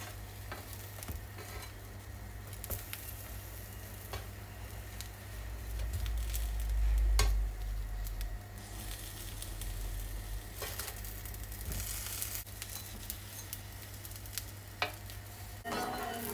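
Eggplant pan-roasting in a dry pan with no salt or oil, giving a steady soft sizzle and crackle with occasional stirring scrapes, close and continuous.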